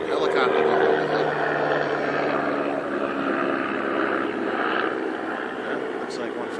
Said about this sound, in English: Got a helicopter going overhead.